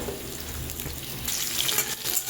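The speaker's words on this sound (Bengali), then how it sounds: "বরবটি আর আলুটা তেলের মধ্যে একটু ভাজা করে নেব" Potatoes and cut yardlong beans fry in hot oil for a fish curry, a soft continuous sizzle and crackle at close range with no voices.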